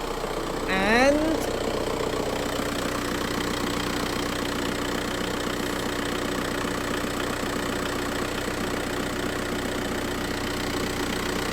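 A high-mileage VW Golf mk5 TDI diesel, just revived after oil starvation, idles with a steady clattering knock close by, after a brief whooping cheer near the start.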